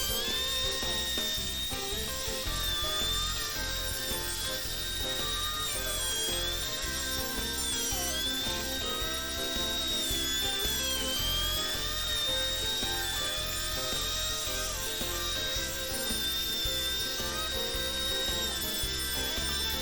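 A router with a 1/2 inch bit cuts a lip into a router table around a jig, giving a steady, high-pitched whine with a wavering tone that runs continuously for the whole stretch.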